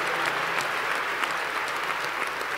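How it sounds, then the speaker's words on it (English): A church congregation applauds after a prophecy, a steady, dense wash of many hands clapping that holds evenly throughout with no voices standing out. "Clap for Jesus Christ."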